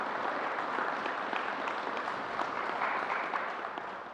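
A soft, continuous patter of clapping from a small audience at a New York COVID vaccination briefing, faint and fairly distant, tapering slightly toward the end.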